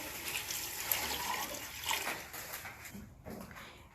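Water poured into a pot of mutton pieces seasoned with salt, chili, turmeric and whole spices, for a mutton and potato gravy; a steady close splashing pour runs throughout, easing slightly toward the end.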